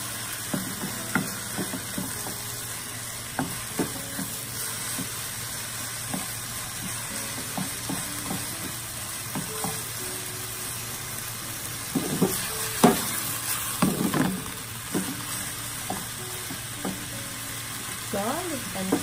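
Grated ginger being stir-fried in a pan for mie goreng, a low steady sizzle with repeated scraping and clicking strokes of a spatula, near and fairly faint, growing busier toward the end.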